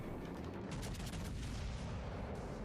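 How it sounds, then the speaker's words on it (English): Naval gunfire from the battleship Yamato in a warship video game arrives as a continuous rumbling barrage of booms and shell impacts, heavy and distant-sounding with no pause. "that's Yamato shooting me as well"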